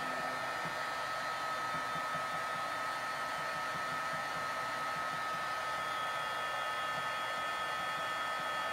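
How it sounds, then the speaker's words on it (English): Heat gun blowing steadily for about nine seconds as embossing powder melts on paper, a continuous close airy roar with a faint whine, no talking. "always remember to keep your heat gun moving so you're not scorching your paper"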